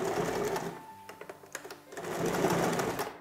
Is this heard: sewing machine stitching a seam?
yes